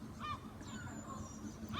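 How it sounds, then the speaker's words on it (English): A flock of birds down a river on a sunny day gives honking, goose-like calls, a few faint cries rising over a soft outdoor hush, with no talking. "There's a flock of birds down the river."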